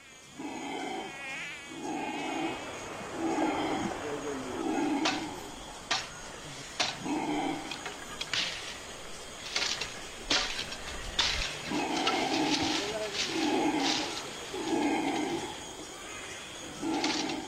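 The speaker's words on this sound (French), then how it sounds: "Sous les cris de protestation des singes hurleurs" Howler monkeys call from a South American forest in repeated rough, rising-and-falling roaring bouts at moderate distance, with high insect buzzing and chirps running over the top.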